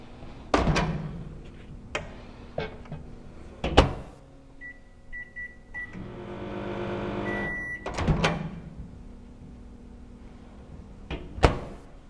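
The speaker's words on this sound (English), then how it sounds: "we'll nuke it for about a minute to make sure that we are getting rid of any contaminants" A microwave oven heats soil for about a minute. Door thunks and clunks, button beeps, then a steady low hum of it running, finishing with more beeps and a closing thud, all fairly close.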